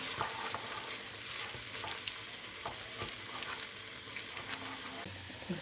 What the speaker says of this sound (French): là j'ai bien mélangé ma pâte d'arachide et tout ce qu'il y avait dans la casserole